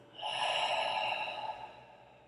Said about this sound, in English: So very slowly feel yourself inhale through the nose and exhale through your mouth.